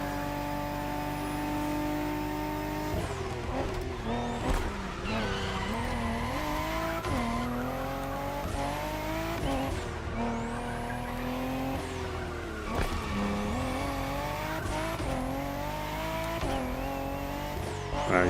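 A truck drifts in the racing game The Crew Motorfest, its engine revving and dropping repeatedly while tires squeal in long sliding bursts, loud and continuous with no talking.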